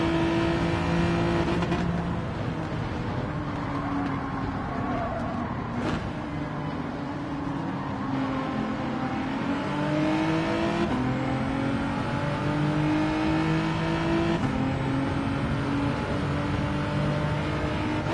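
A Ferrari race car engine in Gran Turismo 7 drones steadily at high revs, pitch rising and falling through gear changes and sweeps, with a brief sharp shift spike and faint tire noise, close and continuous.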